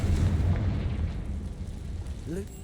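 A Confringo blasting spell goes off in Hogwarts Legacy as a deep, rumbling explosion that is loudest at the start and slowly fades over a couple of seconds, ending with a short rising tonal chirp.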